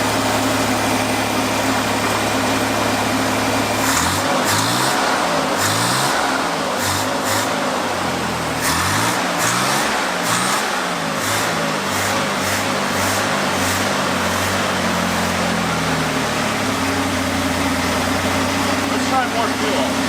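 A barn-find Chevrolet Corvair engine runs rough and wheezy, apparently down on compression, with uneven surging pulses and a loud steady drone throughout, overlapping a voice that talks across it.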